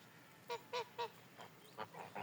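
Domestic grey geese and goslings honking nearby: three evenly spaced loud honks, then a pause, then several more honks and calls against quiet surroundings.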